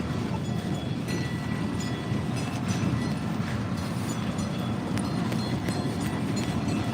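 An MBTA Green Line train rolls past close by, a steady loud rumble with rhythmic rail clatter and faint metallic squeaks, with no voices.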